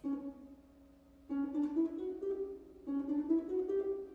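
Short staccato notes, each muffled right after it is played with the knuckle of the second finger, sound in two brief clipped phrases that follow a sustained tone, clear and close.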